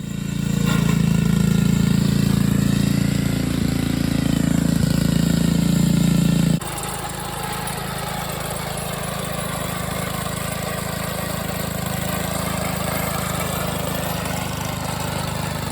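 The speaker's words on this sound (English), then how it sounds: "that sod cutter will give you a nice clean line" A sod cutter engine runs continuously with a loud, low, droning rumble close by, dropping to a slightly quieter steady run partway through.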